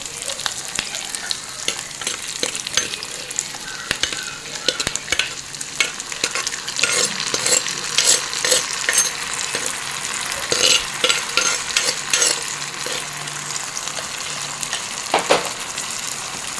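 Onions sautéing in a pan for a South Indian tomato dish, with a steady sizzle of frying broken by repeated scraping and clattering stirs of a spoon against the pan, close and fairly loud throughout.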